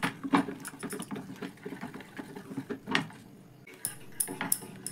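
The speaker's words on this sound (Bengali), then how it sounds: "কিছুটা জল দিয়ে খুব ভালোভাবে মিশিয়ে নেব।" Flour batter being mixed with water in a bowl, with repeated soft scraping, clinking and wet slapping strokes in an irregular rhythm, close by and moderately loud, with no talking.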